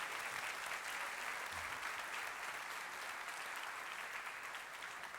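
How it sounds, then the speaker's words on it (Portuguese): A church congregation breaks into steady applause, a dense wash of many hands clapping that fills the room and holds at an even level for several seconds before easing slightly at the end. "Vamos aplaudir a palavra do Senhor"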